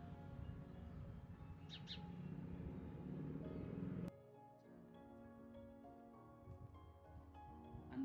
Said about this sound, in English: Sparrows are chirping around me